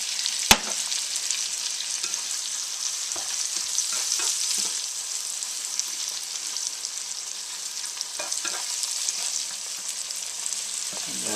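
Butter melts and sizzles in a pan on the stove, a steady crackling hiss with occasional light clinks and scrapes, close and continuous with no voices.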